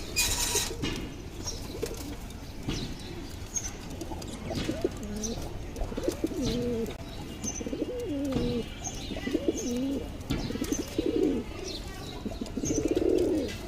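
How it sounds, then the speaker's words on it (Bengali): Pigeons give repeated soft, throaty coos at close range, rolling calls that come one after another with a few faint chirps and rustles in the background. "আপনাদেরকে প্রত্যেকটি কবুতরই দেখাচ্ছি।"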